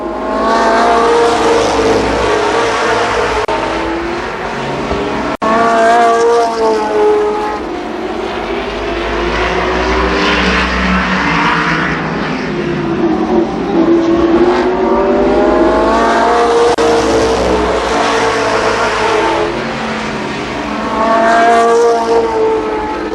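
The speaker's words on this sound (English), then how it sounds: "But here comes Blackford in car number 5" ARCA race cars roar around Columbus Motor Speedway during a 1993 race weekend, loud engines climbing and falling in pitch as the field sweeps past, one car after another, continuously.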